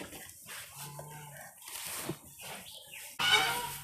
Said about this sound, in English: Nikki, come and grab me this chicken